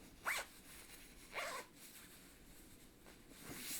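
A zipper pull on a Kuhl men's jacket handled close up, two short quiet zipping rasps about a second apart over faint background hiss, no speech.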